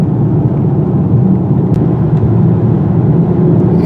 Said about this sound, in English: they allow a lot of noise and other irregularities to get in the cabin when you're driving on rough pavement like this